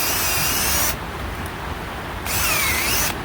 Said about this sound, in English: So I'm going to drill another hole here and stick a tap in here with a bucket on it.